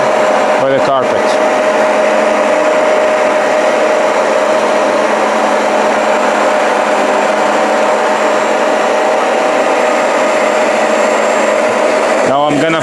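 A Bissell Power Clean Max carpet shampooer runs on a rug with a loud, steady whining motor drone and suction hiss, holding constant throughout, with brief clicks at the start and end.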